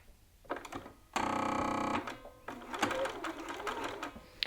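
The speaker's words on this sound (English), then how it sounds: "you're going to slip your dart under your machine" A sewing machine stitches a dart in a garment, starting with about a second of steady, loud, close whirring, then continuing in a stop-start run of clattering stitches.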